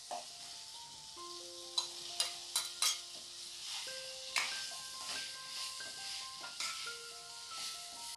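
Fried idli pieces get stirred into sautéed onion and tomato in a pan, a soft continuous sizzle under repeated scraping and clacking of the spoon, several sharp knocks near the start, close but fairly quiet, no talk.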